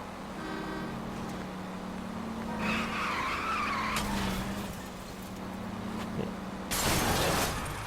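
Video game car in L.A. Noire driving against traffic, a steady engine drone with tyre squeals and a loud skid near the end, no talk over it.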